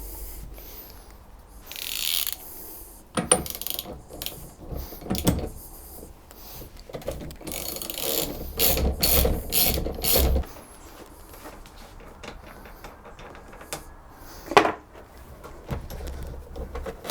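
A ratchet clicks in irregular bursts while the steering wheel is removed from a Rover Metro dashboard, with mechanical knocks and a sharp clunk near the end, close up.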